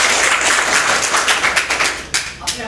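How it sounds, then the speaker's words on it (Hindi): Audience in a career guidance program hall clapping together, a dense burst of applause that fades near the end into scattered claps. "एक बार जोर से ताली लगा लीजिए"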